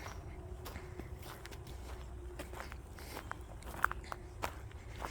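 Footsteps walk through a spring garden near a greenhouse and flower beds, a steady series of soft crunching steps close by, with one sharper click partway through and light outdoor background.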